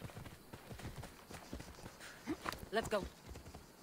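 Horse hooves clip-clop in Assassin's Creed Odyssey, a soft, steady patter of quick steps running under a voice that talks over them.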